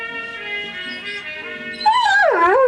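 Guy, a pet dog at home, holds a long, wavering howl close to the listener, then breaks into higher, bending whimpers and yelps toward the end, loud and alone.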